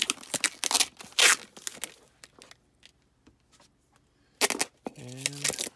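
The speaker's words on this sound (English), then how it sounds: "Roll that tape back up over there." Packing tape is torn and handled while cobalt blue glass Arcoroc mugs are packed for shipping, giving close bursts of tearing and crinkling separated by quiet gaps, with a brief voice near the end.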